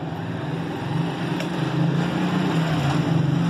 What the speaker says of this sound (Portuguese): Vai desculpando aí o barulho de moto aí,